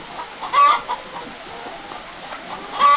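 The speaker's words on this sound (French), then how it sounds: "Les poules que vous voyez, ce sont des poules de la race pondaise." Laying hens on a hillside poultry farm give short clucks in two bursts over a low farmyard background. The clucks are close and clear, and no one speaks.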